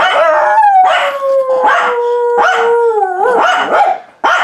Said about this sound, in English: She's going to bark.